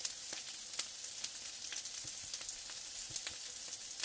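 Spices fry in a pan with tomato paste and salt for matar paneer, giving a steady close sizzle with scattered sharp crackles and pops throughout, and no voices.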